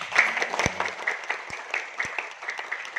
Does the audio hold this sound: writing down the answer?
no